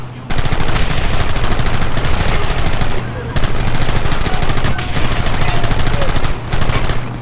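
Sustained machine gun fire blazes loud and close in the Western video game Red Dead Redemption, in long rapid bursts broken by brief pauses, with a steady low hum beneath.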